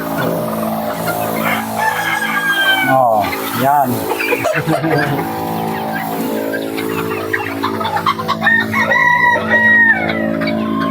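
Chickens, still young, cluck and crow repeatedly at close range, with brief voices talking among the bird calls, in an animal pen.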